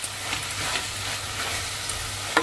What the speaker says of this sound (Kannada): ನಿಧಾನವಾಗಿ ಇದನ್ನ ಹುರಿತೀನಿ